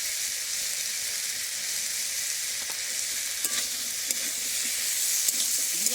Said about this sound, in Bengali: দিয়ে ভালো করে ভেজে নিলাম।